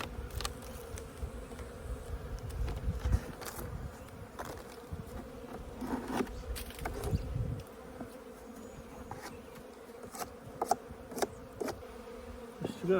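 Honeybees drone continuously in an opened hive with a good population, the buzzing steady and close while scattered knocks and clicks from handling the boxes break through.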